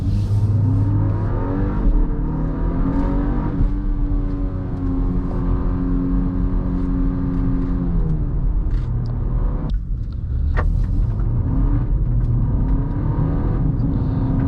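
A 2025 MINI Countryman John Cooper Works with a 7-speed dual-clutch transmission, its engine droning steadily from inside the cabin while driving, a rising tone under acceleration that drops at a quick gear shift, then climbs again.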